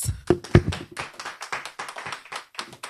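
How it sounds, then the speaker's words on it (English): Scattered applause from a press conference audience, a brief patter of hand claps and taps of moderate loudness that comes in uneven bursts rather than a sustained ovation. "A round of applause"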